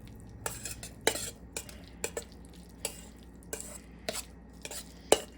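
A utensil stirs egg salad in a bowl with a series of clinks and scrapes, irregular strokes about every half second, close and fairly quiet, with no voices.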